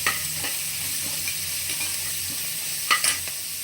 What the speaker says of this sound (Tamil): தக்காளி இதெல்லாம் நல்லா வதக்கி விட்டு லைட்டாக வதங்கினா போதும்